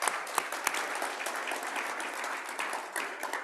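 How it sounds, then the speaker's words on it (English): An audience at a Raleigh Kiwanis club meeting gives a dense round of applause, with steady overlapping hand claps close by throughout. "Round of applause."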